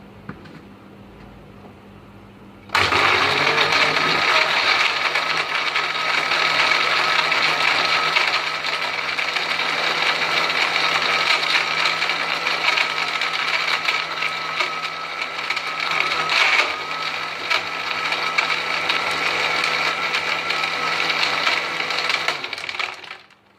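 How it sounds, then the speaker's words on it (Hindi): A blender whirs steadily for about twenty seconds, blending lemon juice, mint paste, sugar syrup and ice for a mint margarita slush, starting abruptly, staying loud and close with a gritty, crunching texture, then cutting off. "लेमन जूस, मिंट पेस्ट और आइस, इन चीज़ों को ब्लेंड करेंगे।"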